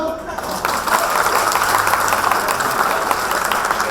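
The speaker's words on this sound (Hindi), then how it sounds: "ताली बजाओ" An audience at a college farewell celebration at CIMAGE Group of Institutions breaks into sustained applause after a short quiet opening, a broad steady wash of clapping with voices faintly mixed in.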